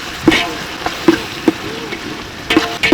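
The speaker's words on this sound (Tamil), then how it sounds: "இஞ்சி பூண்டு பேஸ்ட் போட்டு நல்லா வதக்கணும்." Ginger garlic paste sautés in a clay pot with a low sizzle, punctuated by a series of regular sharp taps and scrapes from stirring, close and fairly loud.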